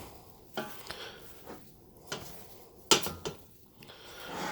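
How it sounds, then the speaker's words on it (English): A spoon stirs melting marshmallows and butter in a pan over low heat for rice crispy treats, giving soft rhythmic scrapes and occasional metallic taps, quiet and close with no talk. "Now I'm just gonna stir this till they turn into a nice little marshmallow soup."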